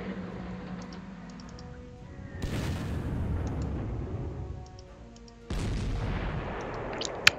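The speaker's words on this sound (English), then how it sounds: "Let's have some artillery on him." Artillery fire in the wargame Rommel at Poznan lands in two bursts, each a sudden broad crash that rolls on for a couple of seconds, with faint clicks from a keyboard in between.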